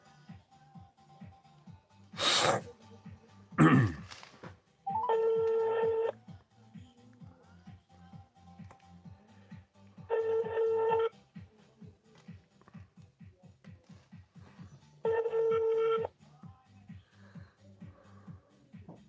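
A telephone handset plays brief dialling noises, then three evenly spaced ringback tones about five seconds apart, each roughly a second long, under a steady faint rhythmic background hum.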